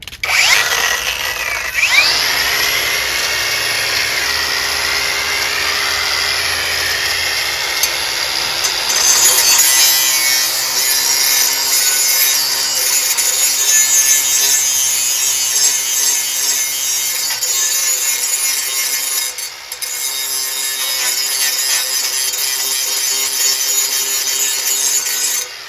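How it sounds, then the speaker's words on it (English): Hand grinder sharpening the blade of a Murray 20-inch push lawnmower with a Briggs 6 HP engine, a loud continuous high-pitched whine and grinding rasp lasting throughout, close by. "Got my hand grinder."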